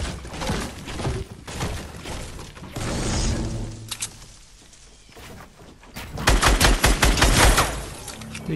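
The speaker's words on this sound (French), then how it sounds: "C'est qui me tire dessus là?" In Fortnite, gunfire aimed at the player comes as loud, rapid bursts of shots and clattering impacts, easing off briefly in the middle and then returning in a fierce close volley.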